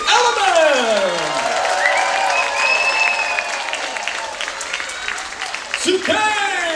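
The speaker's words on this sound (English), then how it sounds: "let's hear a huge round of applause for CK the Element!" A large crowd at a special needs talent showcase bursts into loud, sustained applause and cheering for a performer. Excited shouts and voices rise over the clapping throughout.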